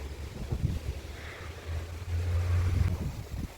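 Low, rumbling wind in the Netherlands buffets the microphone in uneven gusts, strongest toward the end, with no voices.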